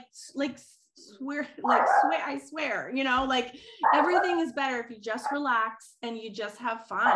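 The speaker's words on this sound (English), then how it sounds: "sorry for the dogs" Dogs bark and yip in short bursts in the background of an indoor interview, mostly buried under continuous close speech.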